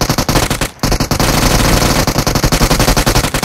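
Rapid automatic gunfire in PUBG, a loud close stream of shots broken by a brief pause and then resuming in a steady rattling burst.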